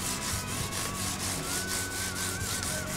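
Steady, rhythmic sandpaper strokes rub back and forth over the fretboard of a Mexican Fender Stratocaster guitar neck, a continuous raspy scratching with regular pulses, close and fairly loud, with no talking.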